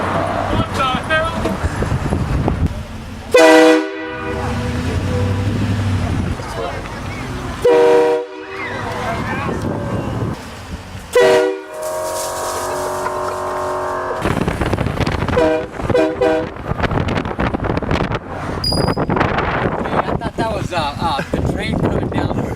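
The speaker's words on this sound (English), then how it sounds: "we put a train horn in my truck" A train horn fitted to a pickup truck blares in several long, loud blasts spaced a few seconds apart, separated by bursts of excited voices and laughter from people nearby.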